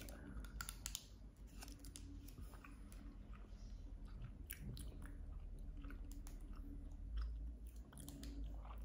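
Cola-flavoured Mamba chewy candy being chewed close up, with soft, continuous wet mastication and small crunchy clicks throughout, faint and steady with no talking.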